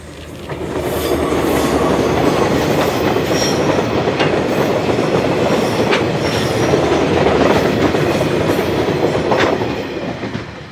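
A KiwiRail diesel locomotive hauling a freight train rumbles past close by at Te Puna, New Zealand, a steady loud roar of wheels with clicking rail joints and faint squeals, fading slightly at the end.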